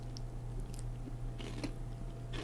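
Someone chewing a tuna snack close to the microphone: a few soft, scattered bites and crunches over a steady low electrical hum, fairly faint, with no talking.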